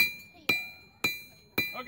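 A blacksmith's hammer strikes hot metal on an anvil three times at an even pace. Each blow is a bright, ringing clang that dies away before the next, close and clear during a forging demonstration.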